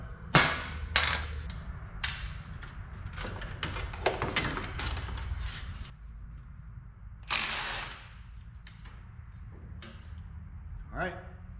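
Sharp metallic clanks, taps and ratcheting bursts come from tools working a pulley off an old car alternator, in uneven clusters separated by quieter gaps, close and moderately loud.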